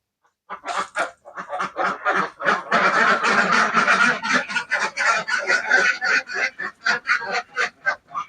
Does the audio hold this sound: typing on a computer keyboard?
no